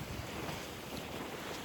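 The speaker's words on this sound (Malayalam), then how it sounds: "നല്ല അടിപൊളി കാറ്റ്." Steady wind buffets a boat out at sea, with broadband roar and wave wash continuing without a break, close and fairly loud, and no voices.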